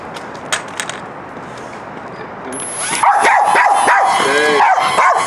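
A small dog barks repeatedly up close, sharp yips and excited barks getting louder and more frequent toward the end, with the high whine of a remote control quadcopter in the background.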